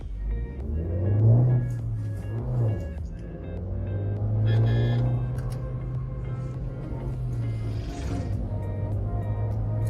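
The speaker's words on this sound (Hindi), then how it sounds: "हम ले जाते हैं इसको 3000 आरपीएम तक और ये ऑफ वी गो" Maruti Suzuki XL6 MPV engine pulling up to about 3000 rpm with the AC off, a steady low rumble and rising drone heard from inside the cabin, with faint voices in the background.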